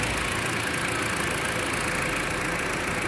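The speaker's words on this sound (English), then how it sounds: "So I run my engine already for 15 minutes" A Jeep Patriot engine idles after running for fifteen minutes during a radiator flush, a loud, steady, broadband mechanical drone that stays even throughout with no speech.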